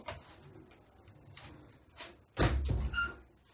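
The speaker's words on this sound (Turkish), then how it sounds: "Şu kapıyı kapatmak zorundaydım arkadaşlar." A door pulled shut indoors, a couple of soft creaks and knocks followed by a firm, fairly loud thud and a short rattle as it closes.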